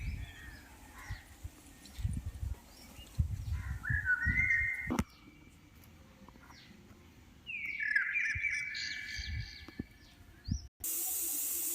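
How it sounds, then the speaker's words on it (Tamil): A pressure cooker cooking chicken biryani on a stove gives off two shrill hissing whistle bursts, each rising for a couple of seconds, over a low rumbling background with a steady hiss at the end. "விசில் வந்துச்சு, நம்ம ஸ்டவ் ஆஃப் பண்ணிக்கலாம்."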